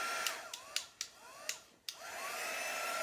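A heat gun blows a steady hiss over freshly applied chalk paint, metallic wax and stained ink on cut-out bunny pieces, broken by several sharp clicks and short swooping tones before the airflow resumes.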